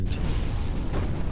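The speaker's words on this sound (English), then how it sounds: "a thunderous explosion echoes through the air and caused the trunk to tilt to the side" A thunderous explosion in an audio story about a burning tree, heard as a dense, sustained low rumble with a sharp crack near the start, loud and alone without talk.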